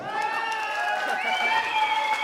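Guests at a Turkmen wedding celebration applaud in a steady wash of clapping, with excited voices and sustained, wavering tones carrying over the crowd.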